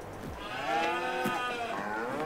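Cows moo in Farming Simulator 22, a single long, loud, drawn-out low call with a clear harmonic tone, heard alone without talk.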